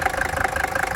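A 1979 Mercedes 300D W123 diesel idles nearby with a steady, rapid clattering pulse, its knocking beat even and loud throughout.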